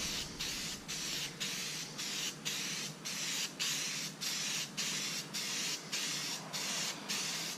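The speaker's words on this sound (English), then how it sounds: "So you just spray the base colour." Close, steady hiss of a Rust-Oleum dark green spray paint can applying a base coat to a stunt bike, in short repeated bursts, each interrupted by a brief pause, with no voices.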